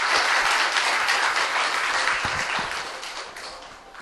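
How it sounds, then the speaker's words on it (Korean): Warm applause from students and attendees at a youth sea camp testimony event in Geoje, strong and continuous at first, then gradually thinning and fading, with a few sharper individual claps near the end. "뜨거운 박수로 격려해 주도록 하겠습니다."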